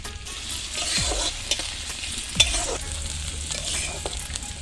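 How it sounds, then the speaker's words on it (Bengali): Sliced onions and green chilies hit hot oil in a heated kadai for a pangas fish curry, giving a loud, continuous sizzle and frying hiss with a couple of stirring scrapes and no voices. "তেল গরম হয়ে গেছে এর মধ্যে পেঁয়াজ কাঁচামরিচ দিয়ে দিলাম"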